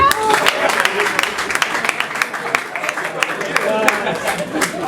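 Audience applause at a comedy festival show in Goma, scattered claps over crowd noise and voices, fairly close and steady throughout.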